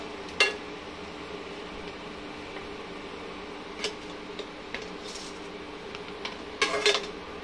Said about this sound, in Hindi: अभी इसको निकाल लेंगे, इसी छन्नी के अंदर निकालेंगे, तेल भी नीचे इसका निकलते जाएगा।